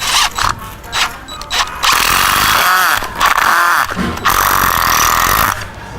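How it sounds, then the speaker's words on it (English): Cordless impact drill boring into material, a loud whining motor broken by short pauses, with a rapid rattling hammer action kicking in during the sustained runs. "when I'm drilling, you can actually hear the hammer kick in"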